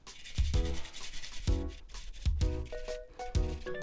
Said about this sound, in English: you want to use a grater rather than a garlic smasher because you want to have a really good finely grated pieces